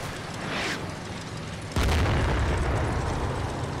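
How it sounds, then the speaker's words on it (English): A mortar round bursts with a deep, heavy boom in Combat Mission: Battle for Normandy, rising sharply out of a steady rumbling wartime background and leaving a sustained low roar behind. "Ooh, that was a good mortar."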